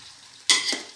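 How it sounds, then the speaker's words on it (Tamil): A single quick stir of chicken with ginger garlic paste in a hot pan, a short scraping swish with sizzle, close and brief, after near silence. "இந்த இஞ்சி பூண்டு பேஸ்ட் எல்லாம் வந்து மிக்ஸ் ஆகிற மாதிரி நல்லா கிண்டி விட்டுக்கோங்க"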